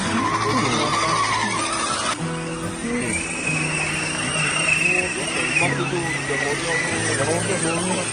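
Radio-controlled offroad 4x4 truck pushing through mud, its small electric motor whining and rising in pitch under bursts of throttle, with people talking and shouting nearby throughout.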